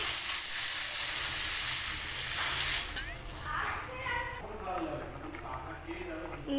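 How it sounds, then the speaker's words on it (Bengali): Water is poured into crab curry masala frying with potatoes in a pan, giving a loud broad sizzle and hiss that drops to quieter bubbling after a few seconds. "কষানো হয়ে গেছে দিয়ে দিচ্ছি পরিমাণ মতো জল"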